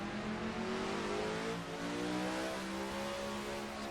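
A 1973 Matra Simca MS670 race car in a racing game at Targa Florio, its engine droning loud and close with pitch climbing and falling as it revs, with faint tire noise.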